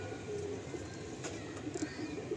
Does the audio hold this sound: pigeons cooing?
yes